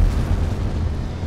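An enemy shot down in Half-Life 2 bursts into a short, heavy explosion, a deep booming rumble that fills the whole moment, loud and close with no talk over it.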